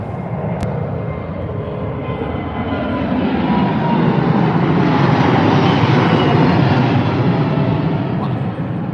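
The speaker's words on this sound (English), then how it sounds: "it has taken off now. The dash 10 787-10 there" A British Airways Boeing 787-10 takes off at Heathrow, its deep jet roar swelling steadily and peaking midway before easing slightly, loud and continuous throughout.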